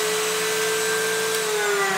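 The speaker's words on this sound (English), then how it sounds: "Let's cut a pocket." A Castle TSM-12 pocket cutter runs while cutting a low-angle pocket in wood, a loud, steady motor whine with a sustained tone for about two seconds and no talk.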